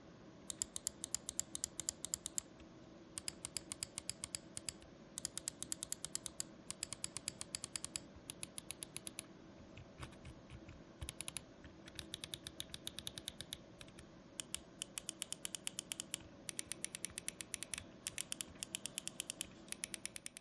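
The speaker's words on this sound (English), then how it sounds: "every switch on every single button is so satisfying. It has a perfect click" Crisp, sharp Glorious gaming mouse button clicks in quick rhythmic bursts, repeated over and over with brief pauses between groups, close and clear against a quiet background.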